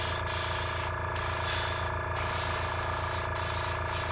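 A Gaahleri 98D airbrush spraying paint, a continuous close airy hiss with a steady compressor hum beneath it, broken by a few brief pauses in the spray.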